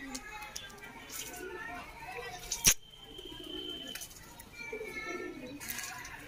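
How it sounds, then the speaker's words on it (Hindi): Domestic pigeons coo repeatedly nearby while a flock is out flying, with soft chirps and a brief sharp clatter partway through; someone talks over the birds. "देखो कितने कबूतर उड़ा रखे हैं हमने।"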